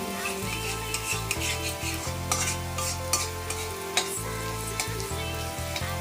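Dal curry fries and sizzles in a heavy-bottomed cooking pot while a spoon stirs and scrapes through it, a steady close crackle with repeated stirring strokes and no talking.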